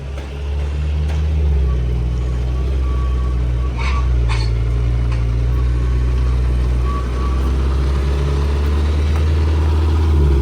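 A 2025 Lamborghini Temerario with a 906 hp engine idles low and steady as it creeps out toward the road, a continuous deep rumble close by with faint higher chirps passing over it.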